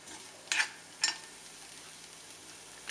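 Chicken thoran with grated coconut roasts in a pan, a soft continuous sizzle broken by two sharp stirring scrapes, close and alone.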